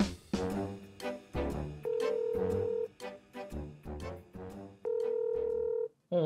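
A phone call being placed: clear dial-tone beeps and two long ringback tones, heard alone at moderate level with no talk.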